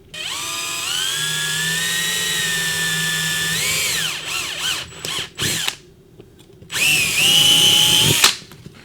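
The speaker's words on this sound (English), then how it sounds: "getting out our drill, we got a 1/4-inch drill bit on it. Drill our first hole" A power drill with a 1/4-inch bit whines loudly and steadily, bogs and stutters as it bites into a pipe, pauses briefly, then spins up again before stopping.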